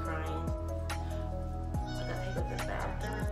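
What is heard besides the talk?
pet dog crying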